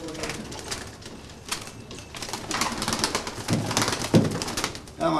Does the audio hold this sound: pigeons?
yes